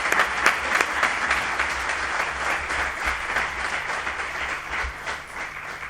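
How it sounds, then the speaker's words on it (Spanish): Audience applause honouring caregivers at a talk on living with lymphoma or multiple myeloma, a steady dense wash of many hands clapping throughout, moderately loud with no speech. "Así que os pido un aplauso para los cuidadores."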